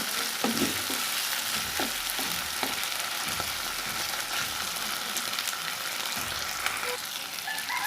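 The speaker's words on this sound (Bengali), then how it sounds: "এখন এগুলোকে একটু ভালোভাবে ভেজে নিব" Tomato cubes and other curry ingredients fry in a pan, giving a steady close sizzle with occasional stirring scrapes throughout, and no voices.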